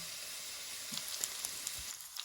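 Pork fat sizzles steadily in a frying pan, a constant crackling hiss with small pops scattered throughout.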